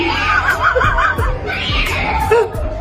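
A woman shrieks at the sight of a mouse, letting out wavering high screams mixed with laughter-like yelps over loud, busy background noise, with a few sharp thumps in between.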